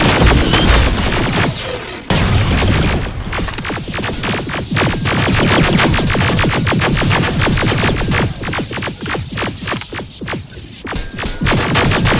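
Rapid, sustained gunfire from rifles in the Terminator Resistance video game, a loud, dense rattle of overlapping shots that continues through the whole stretch under a low, throbbing background rumble.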